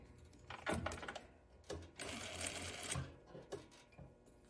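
Domestic sewing machine stitching a folded fabric hem on a tie top, its needle chattering in quick bursts separated by short pauses, close and fairly soft.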